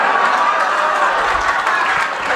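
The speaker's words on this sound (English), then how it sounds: "Keep the applause going." An audience at a magic show breaks into loud, sustained applause, dense clapping filling the room without a break from start to finish.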